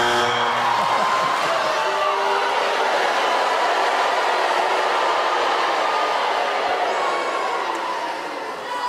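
A comedy show audience cheers loudly at a talent show semi-final, a dense sustained roar of crowd voices that holds steady for several seconds before easing slightly at the end.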